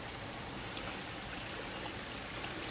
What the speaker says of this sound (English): I'm going to go ahead and add some more soy sauce and some more sesame oil.